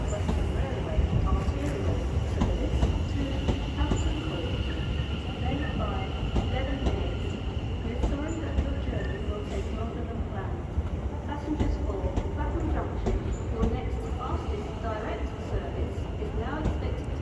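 A Class 701 electric train at a London terminus, a steady rolling rumble with wheel clicks and faint squeals that lasts throughout, with a person talking over it.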